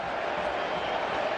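Juventus supporters in a packed stadium roar in celebration after Cuadrado's goal against Atlético Madrid, a dense, steady wash of distant crowd noise with no single voice standing out.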